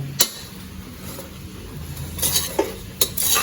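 Puliyodharai tamarind rice being mixed with spice powder in a vessel, with soft scraping and stirring under a few sharp spoon-on-metal clinks, close and without talk.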